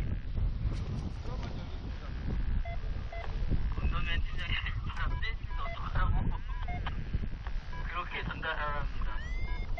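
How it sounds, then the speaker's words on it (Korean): Strong wind at a paragliding site gusts and roars across the microphone in steady, loud buffeting, with people's voices talking intermittently underneath. "바람이 세지고 있네요"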